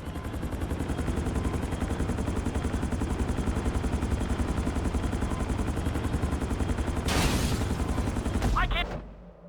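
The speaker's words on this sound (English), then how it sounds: "Bring the helicopter down gently onto the helipad." A helicopter in GTA 5 descends onto a helipad, its rotor chopping in a fast steady pulse, loud and continuous, with a brief rushing burst near the end before the engine sound cuts off.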